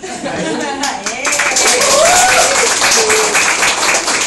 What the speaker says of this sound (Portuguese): uma salva de palmas pro nosso dueto